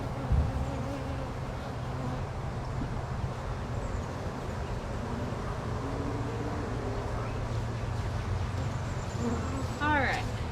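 Honey bees from a swarm buzzing in a dense, continuous drone around the hives, loud and close throughout with a brief low thump near the start.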